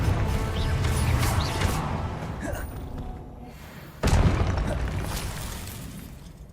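A Confringo fire spell from Hogwarts Legacy bursts with a rumbling blast that fades away, then a second sharp, booming impact around four seconds in, loud and close, with a voice briefly audible under it.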